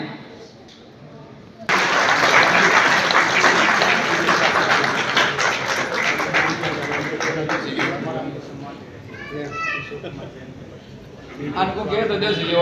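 Crowd at a Vishwakarma Jayanti celebration bursting into sustained applause that starts abruptly, stays loud for several seconds, then fades under a voice speaking over a microphone and returns briefly.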